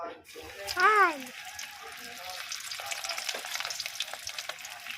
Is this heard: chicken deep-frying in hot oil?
yes